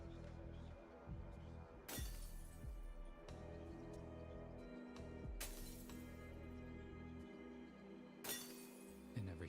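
Mirror glass shattering into shards in the video game Pathologic 3, three sharp crashing bursts spaced several seconds apart over a busy, humming background, fairly quiet overall.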